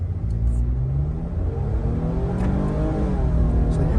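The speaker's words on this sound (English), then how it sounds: "we are about to demonstrate the acceleration of this V6 engine" A 2023 Nissan Frontier's V6 engine pulls from a standstill with a continuous low rumble and rising engine tone, heard from inside the truck, steady and fairly loud, with a few faint clicks over it.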